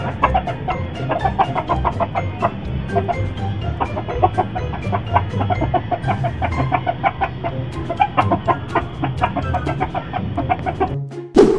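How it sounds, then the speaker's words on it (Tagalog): Many chicks peep and cheep continuously, calling for the mother hen in rapid, overlapping calls, close by and loud, with a few deeper clucks mixed in. "nagtatawag ng inahin yan mga nokis"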